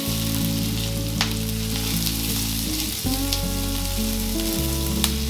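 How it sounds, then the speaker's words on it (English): Carrots and other vegetables sauté in a pan with a steady close sizzle and frying crackle, alongside a constant background hum that shifts in pitch. "let them simmer, saute, until the"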